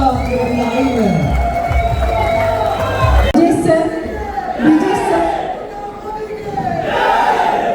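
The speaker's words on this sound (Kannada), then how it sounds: "ಜೈಕಾರ ನಿಲ್ತಾ ಇಲ್ಲ" A large crowd cheers, whoops and shouts loudly and continuously at a grand welcome event in Dubai for Captain Brijesh Chowta, with chanting voices and a few lull-and-swell moments throughout.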